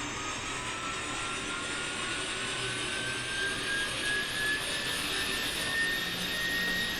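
Simulated Mini 500 helicopter engine spooling up in Microsoft Flight Simulator, heard as a steady, fairly faint whine and broadband rumble that holds level throughout, with no talking.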